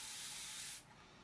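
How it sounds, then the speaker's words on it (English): Water spray bottle giving a long, close, hissing mist spray that cuts off abruptly, leaving faint room noise afterward; no talking. "It gives you a good control on the spray."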